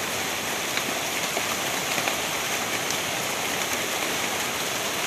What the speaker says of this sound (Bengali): কত জোরে বৃষ্টির আওয়াজ করে বৃষ্টিটা আসছে।